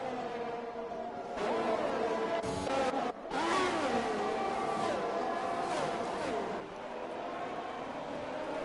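Race cars in the ECF1 racing game at a Mexico circuit rev and accelerate in rising, sweeping engine whines as they pass, loud and continuous, entering the stadium section.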